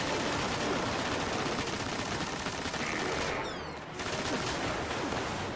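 Gunfire in the shooter game Destiny, a continuous loud rattle of rapid shots filling the whole stretch with a brief dip near the end.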